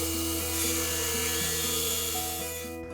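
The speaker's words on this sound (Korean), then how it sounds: "기준의 두께에서 대략 한 1mm에서 한 2mm 정도의 두께의 절삭을 하고 있습니다" Small rotary drill grinding 1–2 mm of material from an artificial eye in an ocularist's workshop, a continuous close high-pitched whine with faint steady tonal hum, tapering off at the end.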